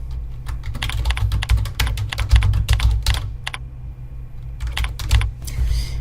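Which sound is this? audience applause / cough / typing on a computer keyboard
typing on a computer keyboard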